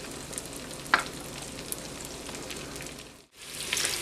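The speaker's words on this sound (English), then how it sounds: "We're going to add our figs that we cut up to it and just let them cook for about 5 minutes" Cut figs frying in melted butter in a pan, a soft continuous sizzle heard close with a couple of small pops and a brief dip near the end, no voices.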